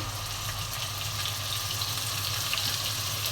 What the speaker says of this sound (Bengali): এখন আদা রসুনের পেস্ট দিয়ে দিচ্ছি